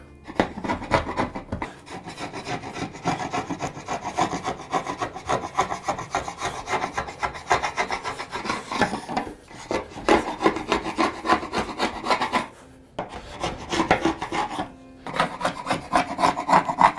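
A Harbor Freight chisel works hand-tool wood in a dense, continuous run of rasping, scraping strokes, loud and close, with a few brief pauses and no talk.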